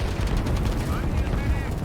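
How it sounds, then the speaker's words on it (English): Artillery cannons firing in the strategy game Line War, a dense, continuous rumble of blasts and booms with no clear gaps between shots. "trying to get their artillery cannons to fire over into this battlefield and take out any units that they can"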